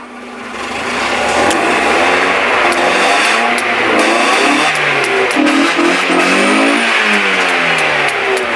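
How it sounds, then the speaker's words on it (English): A car engine with retarded ignition timing, being set up to shoot flames, revs loud and close, rising and falling repeatedly over a sustained rough roar with no speech. "So, time to grab the spark, give it a rev, see if we make any fire."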